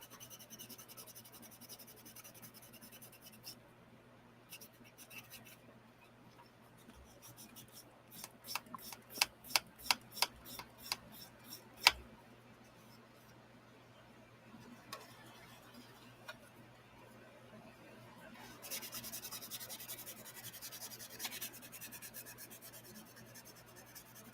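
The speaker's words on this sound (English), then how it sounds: "Can't believe I'm having to sand this like this." Sandpaper worked by hand across a workpiece gives faint, steady scraping, broken midway by a run of quick, evenly spaced rubbing strokes.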